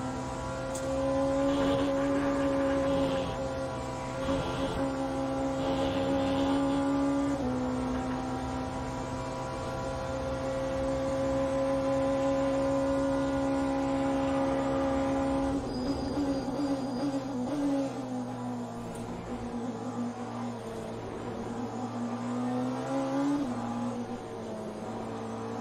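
A race car in the video game Le Mans Ultimate drives with a steady, droning engine tone that shifts pitch at gear changes and shows no pauses, heard continuously at moderate level with no talking.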